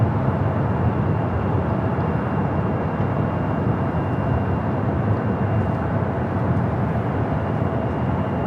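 At LAX, the airliner on flight 803 to Honolulu produces a dense, continuous engine rumble that stays loud and even from start to finish, with no voices over it.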